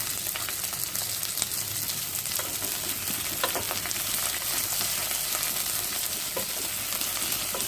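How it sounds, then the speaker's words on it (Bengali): Pointed gourd frying with onion and dried red chillies in a pan gives an unbroken close sizzle with scattered crackles and stirring scrapes throughout. "বেশ লাল লাল করে পটলটা ভেজে নেব। পেঁয়াজটাও সঙ্গে সঙ্গে ভাজা হয়ে যাবে।"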